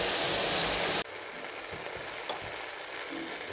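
Broken wheat and moong dal with vangibath powder frying in a pot, a loud hiss that drops abruptly after a second, then softer sizzling with occasional scraping as the mix is stirred.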